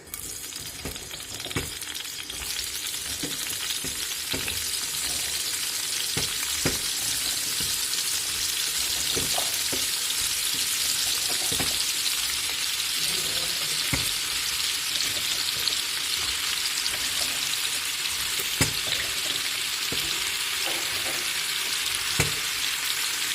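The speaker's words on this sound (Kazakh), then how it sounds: "Картошкамыз қуырылып жатыр." Washed potatoes frying in oil in a hot skillet, a continuous close crackling sizzle with scattered sharp pops and spits throughout, no talking.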